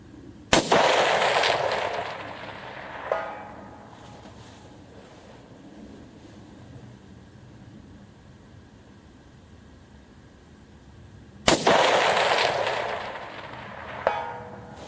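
Two sharp 6.5 Grendel rifle shots ring out outdoors in Indiana, each a loud crack followed by a long rolling echo and a faint distant report a few seconds later, with wind noise between.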